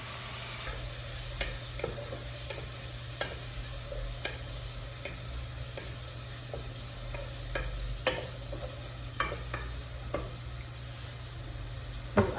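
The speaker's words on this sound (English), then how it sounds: "We'll cook our beef until it's ready, or until it browns." Ground beef browning in a hot pan for lasagna: a constant close sizzle broken by frequent sharp spatula scrapes and clicks as the meat is stirred, with no talking.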